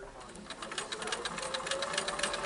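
A sewing machine stitches quilt block pieces together with curved piecing, a fast steady whirring chatter of the needle running continuously up close.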